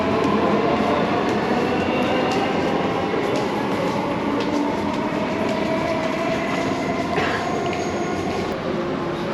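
A Dubai Metro train runs steadily with a loud, continuous rumble and hiss of motion heard from inside the car, with faint clicks and a brief squeal near the end.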